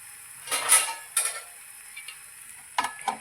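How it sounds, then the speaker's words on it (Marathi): A lid set down over a pan of eggs cooking with onion, giving a few short metallic clinks and scrapes in separate bursts over a faint background, close by, with no voices. "आणि ह्याच्यावर आता झाकण द्यायचं आहे"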